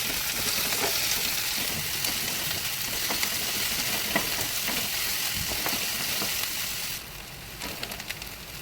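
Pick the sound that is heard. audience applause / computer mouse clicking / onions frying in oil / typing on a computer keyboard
onions frying in oil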